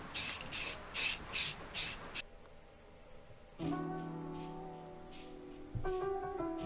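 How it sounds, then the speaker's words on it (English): Satin spray paint sprays onto a cosplay helmet in five short hissing bursts, loud and close, then stops, followed by quieter humming and tonal background noise. "Here's that satin that I'm going to be spray painting on the front."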